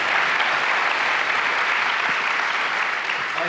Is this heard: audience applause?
yes